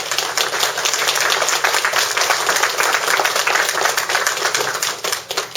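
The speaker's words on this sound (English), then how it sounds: "let's give them a round of applause" A crowd gathered outdoors at a Veterans Day honor guard event applauds Marine Cadets with sustained, dense clapping that holds steady for several seconds before easing off near the end.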